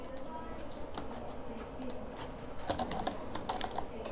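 Computer keyboard typing while entering code, a quiet run of close clicking keystrokes, sparse at first then quicker and denser, under a faint background hum.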